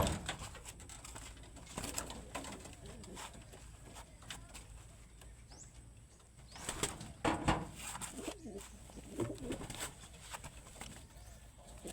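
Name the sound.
pigeons cooing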